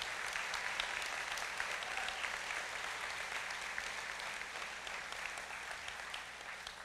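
Choctaw Nation judges receive applause from the audience at the 2018 State of the Nation address, a dense, sustained crowd clapping that continues evenly throughout.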